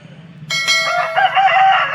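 A rooster brought to a rooster market in Vijayawada bursts into a loud, close crow after a quiet half second, the call held and wavering to the end.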